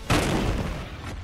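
A tank cannon fires in the Sand Land video game: one heavy, close boom that hits hard, then trails off into a long rumbling decay.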